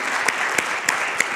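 An audience at a chapter session claps steadily for a volunteer, a dense patter of applause with a few sharper, louder claps spaced evenly through the short burst.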